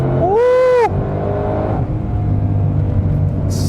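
A Ford Mustang Shelby GT500 accelerates hard from second gear with a loud, steady engine drone heard from inside the car, after a brief excited vocal whoop at the start.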